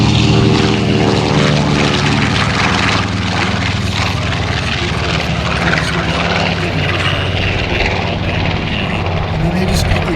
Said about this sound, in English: getting ready to take off now the classically PBJ, the Marine Corps version of the B-25